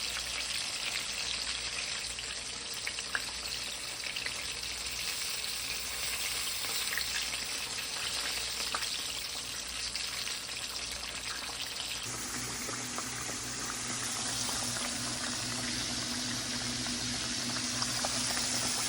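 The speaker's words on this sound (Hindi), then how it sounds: "अभी चिकन को मीडियम पे फ्राई कर लेंगे" Chicken pieces for a zinger burger fry in oil over medium heat, giving a steady, dense bubbling sizzle that runs unbroken and fairly loud, shifting in texture partway through, with no voices.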